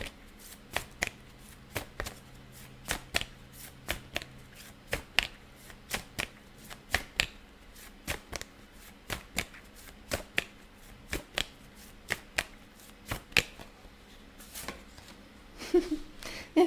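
Tarot cards are shuffled by hand in quick, sharp riffling bursts that repeat at a fairly regular rhythm, close and crisp, with a brief rustle near the end and no voices.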